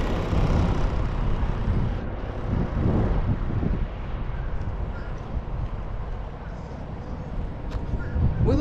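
Low, rumbling wind buffeting the microphone steadily throughout, with gusty swells and no clear voices.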